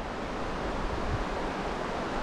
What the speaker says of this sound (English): It's a little windy today too.